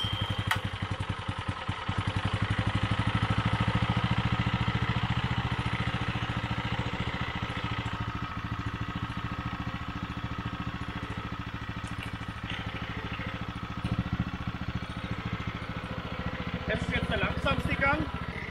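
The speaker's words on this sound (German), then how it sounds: "Motor anlassen" A two-wheel walking tractor used with a homemade plough idles close by, a steady chugging clatter running throughout, while someone talks over it.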